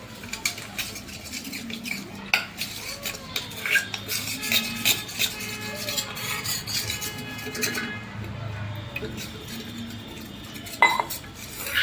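A spoon stirs cornflour and water slurry in a bowl, quick repeated metallic clinks and scrapes against the sides, close and clear, with brief pauses between bursts of stirring.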